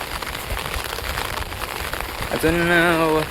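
Rain falling on a flooded street, a close dense patter and hiss throughout, joined near the end by a brief tonal voice or horn-like sound.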